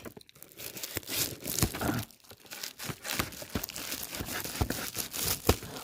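Plastic foil wrapping on soup sachet packaging being torn open by hand, close crinkling and ripping in repeated sharp bursts with no talk.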